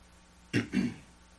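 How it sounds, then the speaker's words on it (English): A single short throat clearing in two quick rough pulses, close and quiet, alone against faint background hiss. "I just had to clear my throat there."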